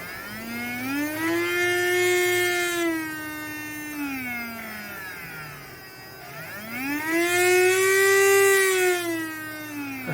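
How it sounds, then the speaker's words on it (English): Uncased modified trimmer motor spinning up and down at different speeds, a rising and falling siren-like whine that swells twice, loud and close, with no talk. "I have removed the casing so that you can visualize the motor rotating at different speeds."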